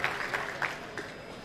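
Audience at a unity-night event applauds to welcome Prof. Dr. Mustafa Güneş onto the stage: a short, dense burst of steady clapping from a crowd, with a voice faintly underneath.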